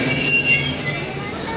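The 2 Down Khyber Mail train pulls into Multan Cantt railway station in Punjab, with loud high-pitched wheel squeal ringing over a rumbling rail noise as the carriages roll in close by.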